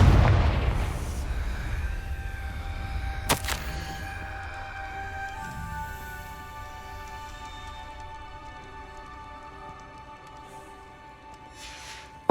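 A Confringo explosion spell in Hogwarts Legacy: a heavy opening blast and rumble, one sharp crack shortly after, then ringing tonal magical tones slowly fading out.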